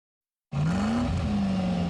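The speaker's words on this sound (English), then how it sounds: "No other car sounds quite like it. The Ford Mustang Shelby GT 500." A Ford Mustang Shelby GT500 engine bursts in after a brief silence, a loud, close roar whose pitch climbs, dips slightly and holds steady as the car accelerates, with no talking over it.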